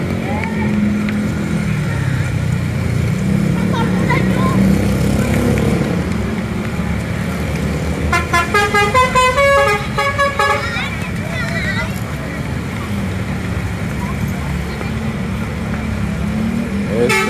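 An STJ Draka bus pulls away from a busy depot, its engine rumbling while a loud melodic musical horn plays a run of tooting notes midway, with voices talking over the bustle.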